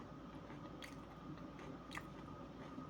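Someone bites and chews food up close: two faint crunchy bites stand out against a soft, steady background hum.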